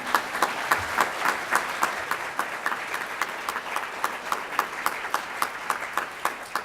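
An audience at a higher-education policy conference applauds Undersecretary Martha Kanter with a steady, evenly paced clapping that holds a regular beat throughout, loud and close, with no speech over it.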